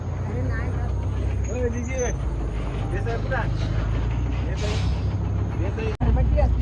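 State transport bus pulling in at a stop during a crowded festival gathering, its deep engine rumble steady beneath people talking nearby, with a sharp hiss near the end.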